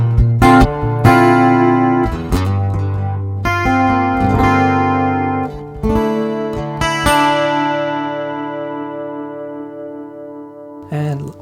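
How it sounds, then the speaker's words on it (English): An acoustic guitar plays chords and single notes through a Zoom A3 preamp and effects pedal set to a long reverb, each strum ringing out and fading slowly, loud and close. "A long reverb, low in the mix."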